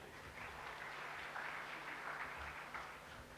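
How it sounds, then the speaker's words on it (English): Audience applause at a startup event panel discussion, a faint, steady patter of clapping from a crowd that continues evenly for a few seconds without voices over it. "A round of applause, please."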